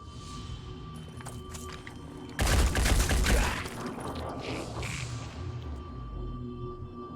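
A brief, dense volley of gunfire erupts in the Phoenix Point game and lasts about a second, set against quieter battle ambience and scattered movement sounds.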